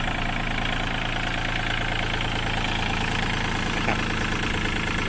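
Used Yanmar 35 hp walking tractor from 2009 with its diesel engine running at idle, a loud, steady, close-up chugging drone with a rapid even knock throughout.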